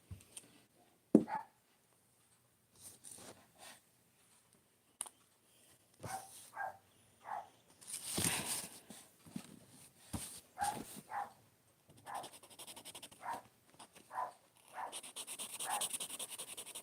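Two loud dogs bark indoors in short, scattered bursts, some sharp single yaps and some clustered runs of barks, with quiet gaps between them.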